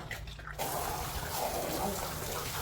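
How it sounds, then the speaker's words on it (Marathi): Water runs from a tap or pipe and swells into a steady, louder rush after a short quiet start, staying close and continuous to the end. "धरा पाण्याचं स्पीड वाढवायचं आहे आता"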